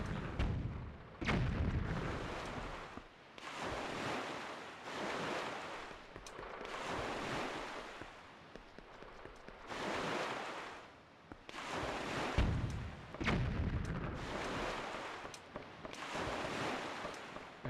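Enemy cannons firing at the player in The Legend of Zelda: The Wind Waker, repeated heavy booms spaced a second or two apart over rushing ocean waves and wind, loud and near with no voices.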